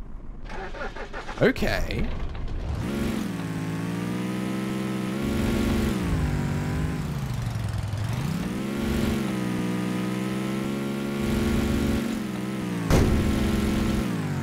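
Car engine in the game Karantiin cranking, catching and settling into a steady mid-pitched idle and rev that rises and dips as the vehicle moves, with a brief bump near the end and someone talking over it.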